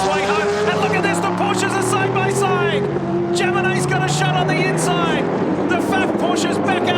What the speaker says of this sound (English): And look at this, the Porsches are side by side.